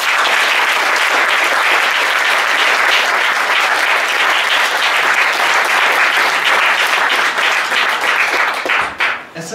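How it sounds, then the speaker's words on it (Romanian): A large audience breaks into sustained, loud, dense applause that holds steady for several seconds before starting to thin out at the end. "o să vă rog să-i aplaudați"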